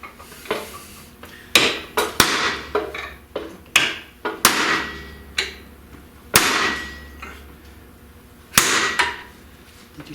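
A lump hammer strikes a British car's ring gear resting on a vise, about a dozen sharp, ringing metallic blows at an irregular pace, some in quick pairs, loud and close with no talking.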